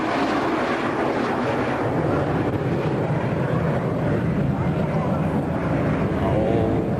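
An English Electric Canberra jet making a pass at an airshow, a loud, sustained roaring rumble heavy with wind noise that holds steady throughout, with people talking underneath.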